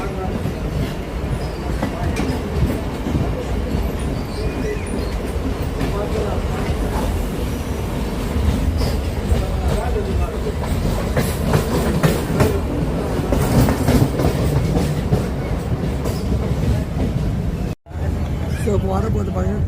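A local train rolls along old track on a suburban run, its dense rumble and rhythmic clatter steady and close throughout, with a brief dropout near the end; a voice talks faintly underneath.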